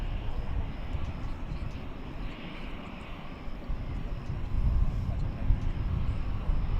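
A jet airliner at DFW Airport, a steady broad roar of engines filling the air, fairly loud and continuous, swelling slightly toward the end.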